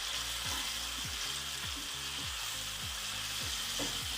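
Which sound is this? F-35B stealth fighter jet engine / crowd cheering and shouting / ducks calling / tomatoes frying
tomatoes frying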